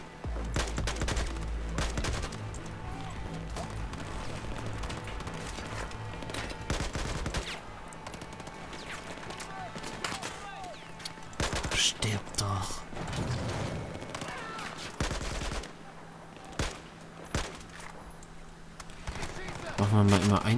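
Gunfire in Battlefield 4, with repeated single shots and bursts cracking over a continuous battle backdrop while someone talks over much of it.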